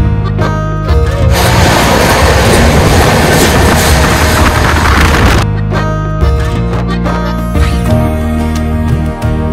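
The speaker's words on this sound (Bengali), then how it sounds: "দক্ষিণেশ্বর ক্রস করতে করতেই ট্রেন যথেষ্ট স্পিড নিয়ে নিল।" The 12377 Padatik Express from Kolkata toward Darjeeling runs at speed past Dakshineswar, a loud, constant rumble of wheels and carriage clatter with a rushing burst in the middle, heard from on board.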